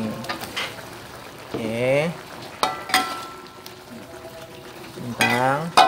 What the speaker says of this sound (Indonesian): Nah, ini sudah mendidih. Kita masukin kentangnya.